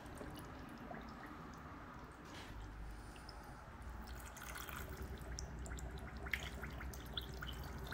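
Liquid drains down into a tightly packed canning jar, a soft, quiet trickle and drip with faint wet squishing, steady and close.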